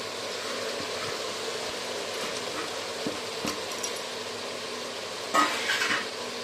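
Mint, coriander and green chillies being sautéed in a pot for chicken biryani, giving a steady soft frying hiss broken by occasional light clinks and scrapes of a stirring utensil against the pot.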